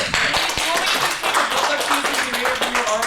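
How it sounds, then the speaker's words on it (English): Audience applause at a live riffing show during a pony fan convention, dense crowd clapping sustained throughout with scattered voices and cheers mixed in. "Round of applause there."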